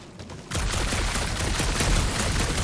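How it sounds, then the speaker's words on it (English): After a brief quiet moment, a sustained barrage of rapid gunfire erupts in Marvel's Guardians of the Galaxy video game, loud and continuous to the end. "You know that aimless shooting isn't gonna scare the monsters away, right?"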